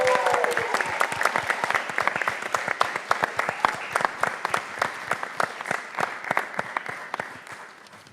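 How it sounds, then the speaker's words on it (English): An audience at a pharmacy student conference gives a loud round of dense, steady applause that gradually fades out. A few faint voices come through the clapping. "Keep up the round of applause."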